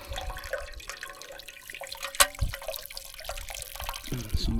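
Water squeezed through a Millbank filter bag outdoors, a soft, steady trickle and dribble close by with a few sharper splashes and drips, no voices.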